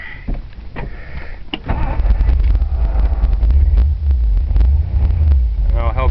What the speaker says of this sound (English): I'll crank it up and just show you that motor running